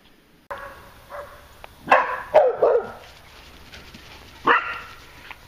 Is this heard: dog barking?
yes